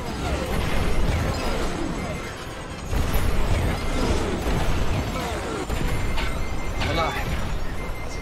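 A missile explodes during a Star Wars: Squadrons starfighter dogfight, with a heavy boom and rumbling blasts layered over continuous engine roar and scattered impacts, while a voice talks over the action.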